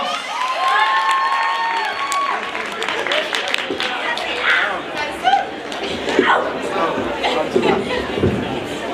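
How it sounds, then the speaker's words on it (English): Lively crowd at a university Africa Day celebration applauding and cheering, with clapping, shouts and chatter from many people, including youthful voices, building into a busy, sustained din. "Another round of applause."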